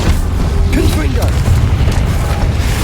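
In Hogwarts Legacy, a Confringo blasting spell goes off with a deep, booming impact amid continuous game noise, followed by short crackling and whooshing effects.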